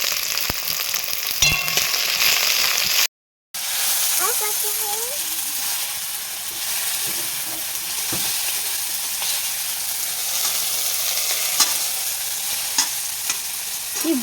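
Onion, garlic and chopped tomato sizzle and hiss in hot oil in a pan, with steady frying and occasional stirring scrapes, close and fairly quiet, briefly cut by a short gap.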